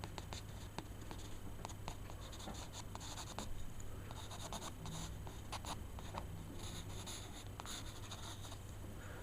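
A pencil sketching a necromorph drawing on paper: close, quiet, steady scratching and rubbing strokes, with short quick lines and longer shading passes, heard alone without talk.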